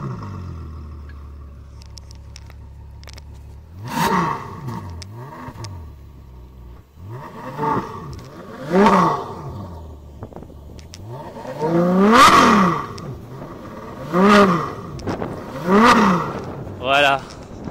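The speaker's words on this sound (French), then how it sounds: "magnifique sonorité du V12" An Italian V12 engine in a very powerful car cranks and fires, then blips through a series of sharp, loud revs with rising and falling pitch, separated by idle; some talk is faintly present.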